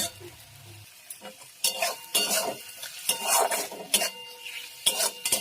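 Masala paste with onion, ginger and garlic sizzles in a pan while a spoon stirs and scrapes, with irregular bursts of clattering metal against the cookware, close and fairly loud, and no talking.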